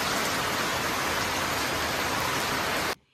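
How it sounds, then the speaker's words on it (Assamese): Heavy rain pours down in a steady, dense roar that fills the whole clip at close range, then cuts off abruptly near the end. "ইমান বৰষুণ দি আছে"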